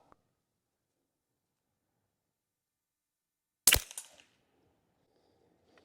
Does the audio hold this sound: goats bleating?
no